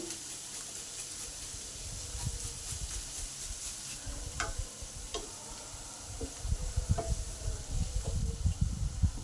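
Onion frying in a pan with salt, for a spicy potato chilli dish, a constant soft sizzle broken by scraping stirs and light clinks of a spatula that grow busier toward the end, no voices.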